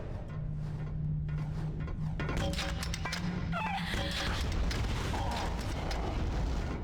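Icarus enemy firing in the Quake 2 Nightdive port, with booming blasts and bursts over a steady low drone of game noise, loud and dense, laser-like tones streaking through the middle.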